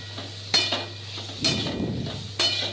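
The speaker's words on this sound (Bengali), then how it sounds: "একটু ধনে গুঁড়ো দিয়ে দিতে হবে আর একটু সামান্য নাড়তে হবে" Drumstick and potato curry with coriander powder is stirred in a pan, giving a few distinct scraping strokes over a faint steady sizzle, close and alone without voices.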